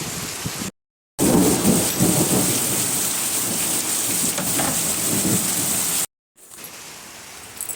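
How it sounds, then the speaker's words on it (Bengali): Heavy rain pours down steadily in a loud, dense hiss with rumbling thunder underneath, cut briefly by two silent gaps, the rain continuing more softly after the second. "কত বৃষ্টি পড়ছে দেখো"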